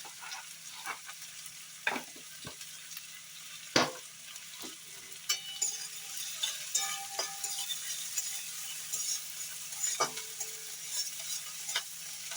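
Baby corn and onion greens being stir-fried in a pan for chilli baby corn, with a steady sizzle broken by repeated scraping strokes of a spatula against the pan, close and moderately loud, with no talking.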